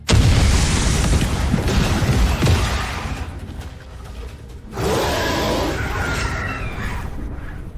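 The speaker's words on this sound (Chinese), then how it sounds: "那就请你们吃青石炸弹套餐吧。 爆炸就是艺术。" Bluestone bombs detonate in an animated fantasy series: a loud, rumbling boom fades out, then a second heavy blast erupts and roars on until the end.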